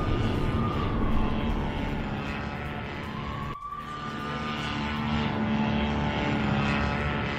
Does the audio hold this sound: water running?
no